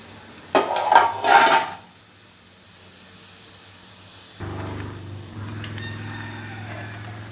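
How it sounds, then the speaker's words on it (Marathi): A spoon stirring moong dal varan as it boils in a pot, first a brief scraping clatter, then a quiet gap, followed by a low steady bubbling simmer. "वरण उकळते थोडंसं ढवळून घेऊ त्याला म्हणजे वरती येणार नाही"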